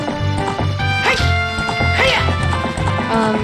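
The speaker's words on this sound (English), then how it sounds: "we're just gonna travel to Kakariko Village on horse" Horse hooves galloping in Zelda: Ocarina of Time, a fast steady clip-clop rhythm carried alongside game music with brief chirpy accents, no talk.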